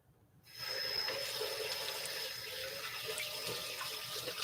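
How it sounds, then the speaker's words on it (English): Hands are washed under a kitchen tap running steadily after a short quiet start, a close, continuous rush of water with light splashing and no talk. "So I'm gonna wash my hands."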